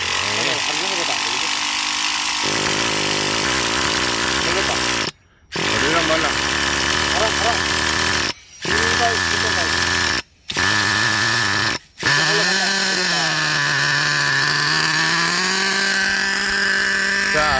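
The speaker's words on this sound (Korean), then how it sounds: "이렇게 엔진이 시동이 걸립니다" A Revo 3.3 nitro RC car engine sputters to life and then runs loud and continuously close by. It cuts out briefly a few times before it settles into a steady, high-pitched idle drone.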